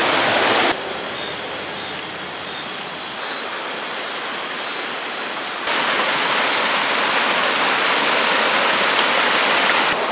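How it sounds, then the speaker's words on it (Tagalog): Water gushes out of a hose in a steady, loud hissing stream, briefly quieter in the middle before surging again. "Dito na tayo magbanlaw sa may hose para at least ito nasasala yung tubig na lumalabas"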